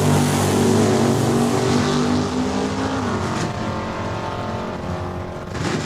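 A Chevelle and a Nova drag racing down the quarter mile at Saskatchewan International Raceway, loud engines revving hard and roaring at full throttle, close by, then fading slightly as they pull away.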